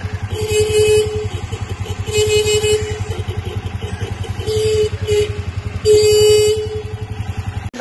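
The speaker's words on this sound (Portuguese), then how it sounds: "A buzina, a buzina." Repeated car horn blasts, several short and long honks, sound close over a steady buzzing motorcycle engine.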